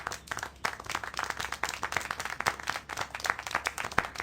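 Steady clapping from a small crowd in the video game Syberia: The World Before, a rapid patter of claps continuing throughout with no talking.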